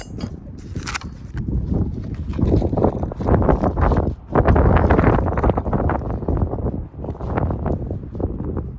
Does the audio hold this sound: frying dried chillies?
no